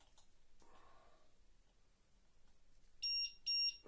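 A buzzer on a Syma X8HG quadcopter drone sounds two short, loud, high-pitched electronic beeps near the end, after a quiet stretch with faint handling noise and breathing.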